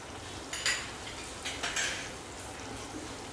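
A spoon scrapes and clinks in a pan as grated paneer is stirred into a gravy, giving a few soft scraping strokes over a quiet background hiss, with no voices.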